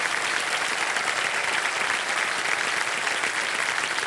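Studio audience on a quiz show set clapping in a dense, steady round of applause that holds evenly from start to finish, loud and close with no talking over it.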